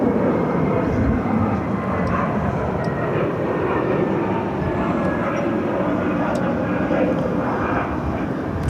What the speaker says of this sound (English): It's Frontier Airlines Flight 2532 headed to Dallas